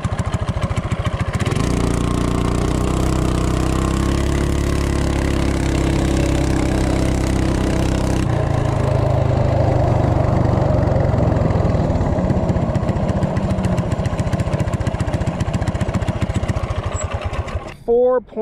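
Coleman CT200U minibike engine with a torque converter revving and accelerating, loud and close, holding a steady high drone before shifting to a rougher, rising roar, then cutting off abruptly at the end.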